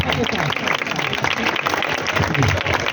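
Applause rises from a church congregation during a Christian preaching service in Lahore, dense, continuous clapping filling the whole stretch with a voice speaking over it.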